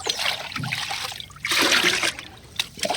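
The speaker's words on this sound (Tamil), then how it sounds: "இப்போ இதில் சாதாரண தண்ணியை ஊற்றி ஃபுல்லாக கலந்துக்கணும்" Plain water poured into a container of liquid fertilizer solution for a terrace garden, heard as a steady trickling and splashing pour with louder gushing bursts, close by and without talk.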